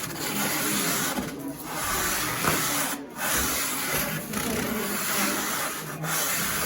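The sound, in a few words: sanding wood with a sanding block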